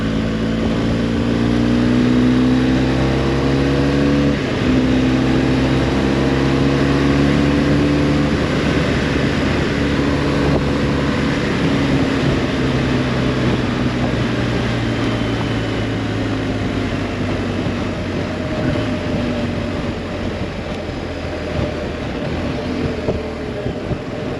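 Motorcycle cruising steadily at speed on an open road, a strong continuous engine drone with wind rush and gradual pitch shifts as it rolls on, loud and close throughout.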